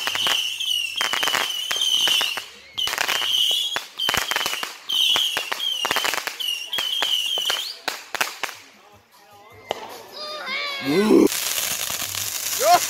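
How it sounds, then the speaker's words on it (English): A fireworks show goes off nearby in a run of sharp bursts, each carrying a whistling shriek and crackle, before the clip ends in a louder, rougher crackling volley. "enjoy this fireworks show"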